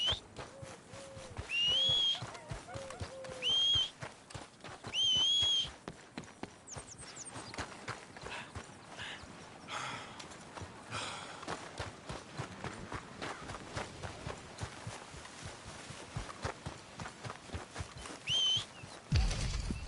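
Horse hooves clip-clop in Red Dead Redemption 2 gameplay, a loose run of footfalls under whistles and bright in-game sounds, moderately close and continuing through the scene.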